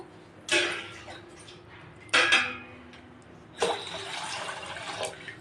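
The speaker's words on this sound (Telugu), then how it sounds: "ఒక రెండు గ్లాసులు వాటర్ అయితే పోసుకున్నాను" Water splashes into a metal pot being readied for gulab jamun sugar syrup, in three separate bursts of pouring with clinks of the vessel, fairly close and quiet, and no one speaking.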